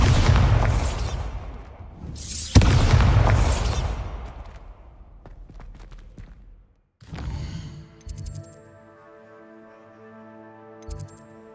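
Bombarda spell explosions in Hogwarts Legacy: two heavy, loud booming blasts in quick succession with long rumbling decay, followed by quieter debris clatter and lingering musical tones, no talking.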